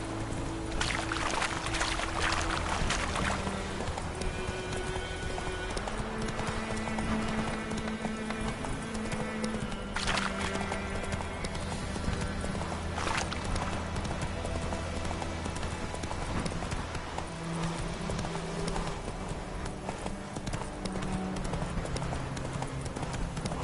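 The horse Roach gallops in The Witcher 3, steady rhythmic hoofbeats running continuously at close range over a bed of game ambience and music.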